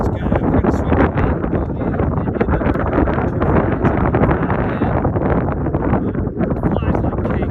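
Steady, loud gusting wind buffets the microphone at an RC flying field during an F-14 jet flight, a dense roar that continues throughout while people talk nearby.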